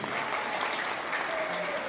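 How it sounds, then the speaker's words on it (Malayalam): Audience at an Onam celebration inauguration at Gandhi Bhavan, Thycaud, Thiruvananthapuram, clapping together in a steady, moderately loud round of applause with a voice faintly underneath. "ഒരു കൈയടിക്കണമെങ്കിൽ തന്നെ ഒരു ജീവനോടെ ഒന്ന് കൈയടിക്കും"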